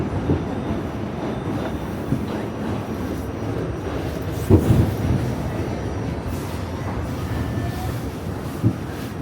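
Steady rumble of a New York City subway train riding between stations, continuous loud track and car noise with a couple of brief clanks and a faint high squeal, no talking.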